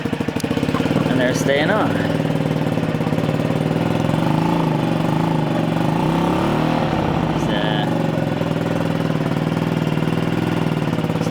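A Honda Zoomer scooter's engine runs steadily and is revved up in a close, continuous buzzing drone, with someone talking over it.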